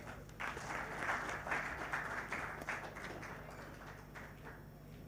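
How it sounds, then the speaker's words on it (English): A crowd applauds a capital markets CEO at a stock exchange listing event, sustained mid-level clapping from many hands that eases slightly toward the end, heard at some distance with no speech on top. "Another round of applause for Keith Karegira"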